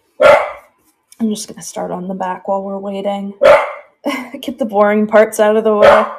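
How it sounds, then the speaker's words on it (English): Several loud, close barks from a house dog reacting to people outside, scattered between stretches of speech as someone talks over and around them. "Apologies for the dog barking."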